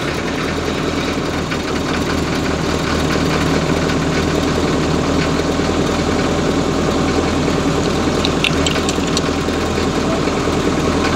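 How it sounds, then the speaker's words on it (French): A Land Rover engine idles steadily after repair, its low, even rumble and faint knocking running continuously and close by, alone and without pause. "le Land redémarre magnifiquement bien"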